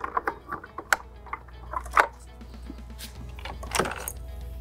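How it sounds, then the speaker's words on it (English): Phillips screwdriver loosening a set screw on an upright vacuum gives faint, scattered metallic clicks and small scrapes at an irregular pace, close and quiet. "with a Phillips head screwdriver, just loosen that up just a bit."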